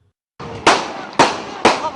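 Three sharp, loud gunshots ring out about half a second apart during a fight at a university, each with a short echoing tail, following a lower noise burst.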